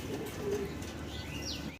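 Turkish Takla pigeons held at a fancy-pigeon breeder's loft, cooing softly and close under faint background noise for about two seconds.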